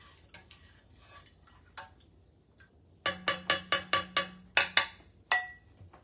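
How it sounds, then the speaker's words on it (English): A spoon stirring a mixture in a pot, a run of about a dozen bright metallic clinks in quick rhythm against the pot after some quieter scraping, close and clear with no talking. "I'm just going to stir it a little till it dissolves."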